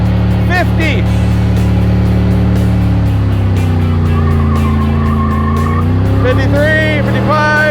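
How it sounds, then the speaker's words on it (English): A beater car doing a burnout roars loudly with a sustained revving engine, the pitch climbing and wavering while the tires squeal, with people talking over it. "We need to do a burnout"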